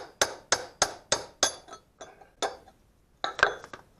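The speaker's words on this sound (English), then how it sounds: "hammer sideways under your chisel there a bit. Just put that chisel in that groove there." Hammer strikes on a steel chisel driving off a PT Cruiser front wheel bearing: five sharp, evenly spaced metallic clanks, then a few softer taps and a final pair of hits, close and loud with no talk.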